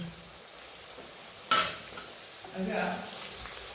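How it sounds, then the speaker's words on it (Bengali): Capsicum pieces added to softened onions and fried in a pan for chilli chicken: a quiet sizzle, then a sudden clatter as the vegetables are stirred, with the frying hiss rising afterward. "দেওয়ার পর আমি এটাকেও একটুখানি ভেজে নিচ্ছি"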